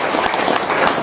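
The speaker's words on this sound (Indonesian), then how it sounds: "Ya, tepuk tangan dong" Audience at a local wisdom testimonial gathering breaking into loud, steady applause, a dense close wash of clapping filling the whole moment.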